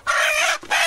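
A farm rooster crows close and loud in hot weather, one strong sustained call that breaks briefly before a final rising note, with no talking.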